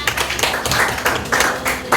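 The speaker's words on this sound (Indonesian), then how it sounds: "tepuk tangan kepada Reza" A classroom of high school students claps for a classmate named Reza, a steady burst of many hands patting together, moderately loud and close, with no talk over it.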